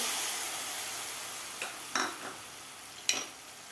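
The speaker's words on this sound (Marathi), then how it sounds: "तूप आपलं व्यवस्थित गरम झालेलं आहे यामध्ये घालायचं आपल्याला चिरून घेतलेला गूळ" Chopped jaggery dropped into hot ghee in a wok and stirred, with a soft steady hiss under a few brief scraping stirs and light clatters, fairly quiet and without talk.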